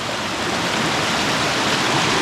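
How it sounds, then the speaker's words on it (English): Waterfall at the Fairy Pools in an ancient forest, a steady, dense rush of falling water filling the whole scene without pause. "There's some really great waterfall features right here"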